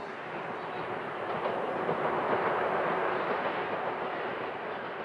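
A passenger train running on rails in Iran, heard as a steady, fairly loud rumble and rolling roar that swells slightly in the middle, with no voices.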